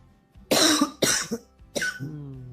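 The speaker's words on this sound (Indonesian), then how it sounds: "Batuk dia" Three sharp, close coughs in quick succession, the last trailing into a brief throat-clearing rasp.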